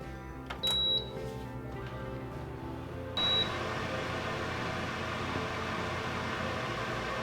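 An Emeril Lagasse Power Air Fryer 360 gives two short, high electronic beeps about two and a half seconds apart while being set to preheat, over a steady fan whir.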